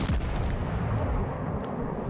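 Warship guns in World of Warships Legends, a dense rumbling barrage of booming shots and impacts with heavy low end, loud and continuous over its short span, no talk.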